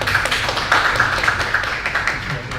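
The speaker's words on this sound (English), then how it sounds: "Please give applause to Professor Dr." A conference audience at an academic gathering on gender and urban space claps for a guest professor, a brief, moderately loud burst of many hands clapping with an uneven, pattering texture throughout.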